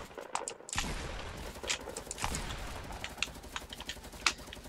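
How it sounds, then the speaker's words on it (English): Gunfire in the video game Fortnite: a steady run of quick, fairly faint shots and clicks after a short quiet opening, with one sharper crack near the end. "Stop shooting me!"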